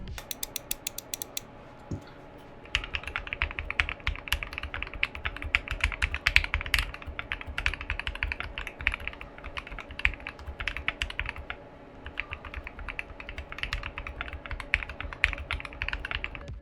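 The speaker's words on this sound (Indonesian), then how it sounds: "keyboard gue seperti yang lu denger, suaranya tuh rada clacky malah ya, bukan talky" Mechanical keyboard typing with a clacky spacebar and keys: a dense, rapid, close stream of crisp clicks and clacks, briefly pausing near the start and again mid-way, with no voices.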